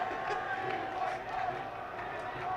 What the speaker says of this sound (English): there was a massive cheer. The Indian supporters in the crowd as they saw Rishabh Pant in the change room.